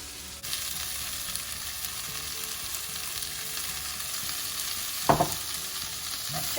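Freshly ground curry paste sizzling in a pan of frying onions for pepper and cashew nut chicken curry, a loud continuous hiss starting abruptly, with a brief clatter of stirring near the end.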